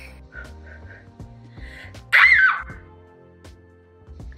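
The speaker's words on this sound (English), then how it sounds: "This dare is to scream as loud as you can." A person screams loudly for a dare: one short, piercing scream of about half a second that bursts out close to the microphone, between quieter stretches of room noise.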